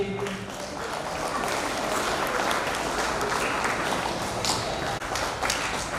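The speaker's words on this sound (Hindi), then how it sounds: "जोरदार तालियों से अभिनंदन कीजिए।" Sustained applause from the audience at a memorial event in Bihar, even and continuous throughout, with some voices mixed under the clapping.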